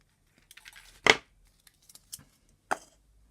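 Two sharp snips of fine 26 gauge nichrome wire being cut, close and crisp, separated by soft handling rustles, with a quieter click between them.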